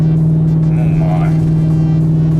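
Pickup truck with the 5.3 engine working hard while towing a car, a steady loud drone with a strong low hum throughout, and a voice talking over it.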